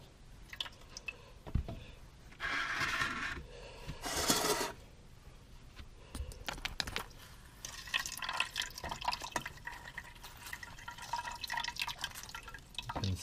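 Water rinsed from a sieve of soil particulate organic matter into a measuring cup outdoors: bursts of splashing pour, then a steady trickle and drip with faint handling clatter, close and quiet.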